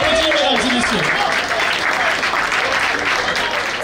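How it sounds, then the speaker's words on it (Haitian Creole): Audience applause at a Haitian talent event, a dense, loud, steady clapping with a voice over it at the start. "On applaudit, mesdames et messieurs."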